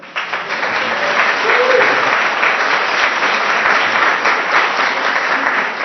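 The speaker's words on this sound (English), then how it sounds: "So everybody welcome Wiley to Porch Talk" A live talk-show audience applauds steadily for several seconds welcoming a guest, a dense wash of clapping from start to finish with a few voices mixed in.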